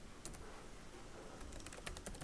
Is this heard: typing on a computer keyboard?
yes